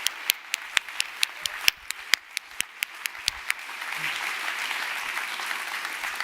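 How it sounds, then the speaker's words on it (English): Applause from a conference audience after a DSO Orchestra performance, starting as sparse sharp individual claps and swelling into a fuller, continuous round of clapping from a crowd. "So I think that deserves another round of applause."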